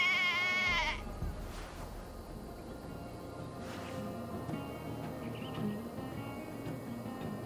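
A sheep in Assassin's Creed Valhalla gives one loud wavering bleat at the start, then a quieter stretch of outdoor ambience with soft scattered noises.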